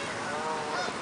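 A goose or similar fowl honks steadily and fairly close for about a second, the call clear and unaccompanied by speech.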